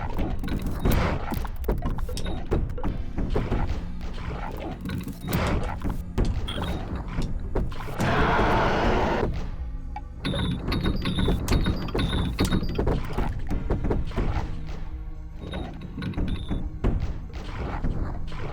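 Screws being struck again and again in a video game stage, a busy stream of mechanical clanks, thuds and ratcheting hits, loud and continuous with game music and effects layered throughout.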